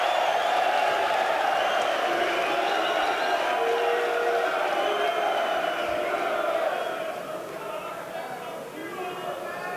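Crowd at a Mosconi Cup pool match roaring and cheering after a shot, a loud sustained wall of voices that fades slightly toward the end.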